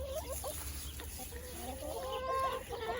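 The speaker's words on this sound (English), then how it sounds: "Here's all my chicken ladies." Backyard hens in an urban homestead cluck in short, scattered calls over a low outdoor hum, fairly close and moderately quiet, with no talking.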